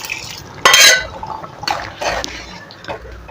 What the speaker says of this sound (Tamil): இப்போ இது பருப்பை வந்து ஊத்திடலாம்